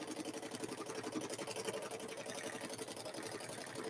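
A sewing machine free-motion quilting a handbag, its needle chattering in a fast, even rhythm that runs steadily throughout, fairly quiet and close, with no talking.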